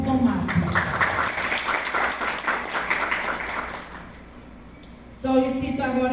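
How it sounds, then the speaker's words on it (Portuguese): Applause from an audience at a Pesqueira community event, dense clapping with voices mixed in that gradually fades, then a speaking voice takes over near the end. "Palmas para Robson Matos."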